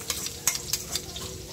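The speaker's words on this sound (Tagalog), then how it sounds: "So una natin igisa ay yung bawang." Garlic sautéing in hot oil in a pan, a steady low sizzle with a few sharper crackling bursts as it is stirred, close and moderately loud, with no talking.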